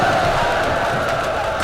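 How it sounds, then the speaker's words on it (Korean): An army's sudden battle cry rings out as a dense, loud roar of many voices shouting together, short and sustained with no pauses. "갑자기 함성이 울리더니"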